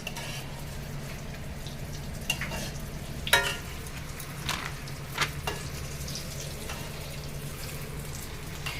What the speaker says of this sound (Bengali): ফিশ ভাজা ফ্রাই চলছে